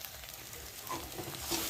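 Egg frying in a pan on a gas stove, a steady soft sizzle and crackle with a few brief louder pops, close and fairly quiet with no talking.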